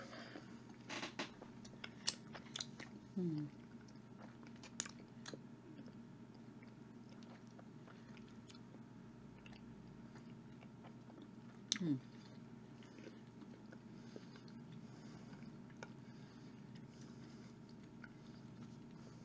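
Someone chews a Trinidad Scorpion chilli dark chocolate, quiet soft crunching and a few sharp bites close to the mouth over a low background hum, with faint talk around it.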